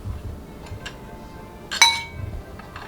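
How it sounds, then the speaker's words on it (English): A spoon clinks once against a glass bowl while red and green food coloring is stirred into crispy rice treats, a single bright ring amid faint quiet scraping. "Keep adding and stirring until you get a nice color."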